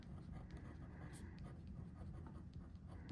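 Fountain pen nib scratching steadily on paper while writing out Golden Lapis ink, likely a Pelikan Edelstein, a continuous close soft scratching with low room rumble underneath.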